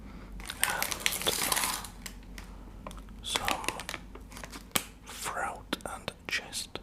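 Menthol throat sweet packet crinkling and crumpling close up in short bursts, with soft whispering throughout.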